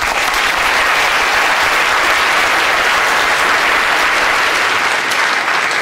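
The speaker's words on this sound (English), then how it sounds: "So let's have a big round of applause for a small brain." A lecture audience gives a big round of applause in a talk about the human brain. The clapping is loud, dense and sustained at a steady level from start to finish.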